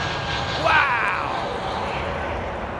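A jet airliner departing for London City from runway 27R, a sustained engine roar with a brief rising whine and a louder swell near the start, heard from outside and steady afterward.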